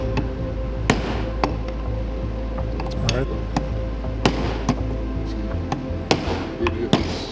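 A hammer strikes a punch to drive out the hammer pin while a gas blowback airsoft rifle is torn down, giving a series of sharp metallic taps at irregular intervals over a low hum, with a voice speaking briefly.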